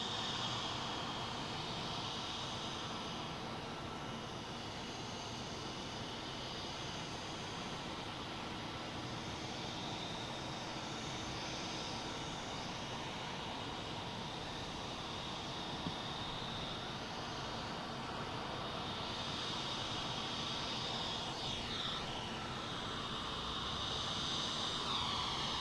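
A LOT Polish Airlines Boeing 787 passes at Boston Logan airport, its jet engines giving a loud, steady roar that fills the whole stretch and swells slightly near the end, with no talk over it.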